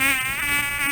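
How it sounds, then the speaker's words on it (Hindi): A mosquito whines on its own for about a second, a thin high buzz held steady at a close, fairly quiet level, with no talking. "दुनिया का सबसे जानलेवा जानवर है मच्छर। जी हाँ, मच्छर, मॉस्किटो या फिर ये आवाज।"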